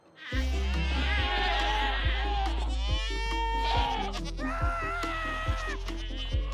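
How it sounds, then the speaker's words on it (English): Screaming goats in Minecraft, crowded inside a goat house, fill the space with loud, continuous overlapping bleats and screams, alongside steady repeated low thumps from the game, all heard close with no talking. "It is a screaming goat house."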